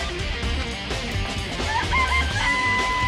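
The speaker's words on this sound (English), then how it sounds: "I remember there were some chickens in the chicken coop." Dangan Ronpa video game chickens cluck in a chicken coop and a rooster crows over a low background hum, the crowing rising toward the end.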